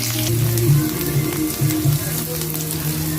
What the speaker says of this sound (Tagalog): Guys, magigisa na tayo,